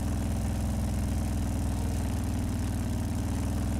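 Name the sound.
motorbike engine idling and revving in a video game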